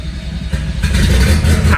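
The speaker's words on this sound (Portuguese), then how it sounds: "Eita, já engasgou, né, o motor." A Volkswagen Gol Turbo engine sputtering and rumbling, a rough, uneven low-pitched running noise that swells and grows louder toward the end, close by with no talk over it.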